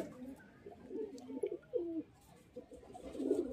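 Pigeons coo softly and repeatedly in a pigeon loft at Sangrampur, with low throaty calls rising and falling over faint background noise.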